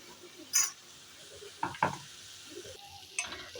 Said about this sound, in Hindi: इसी प्याज को इसलिए ज़्यादा भूनना पड़ता है क्योंकि कटी हुई प्याज तो फिर भी कच्ची नहीं लगती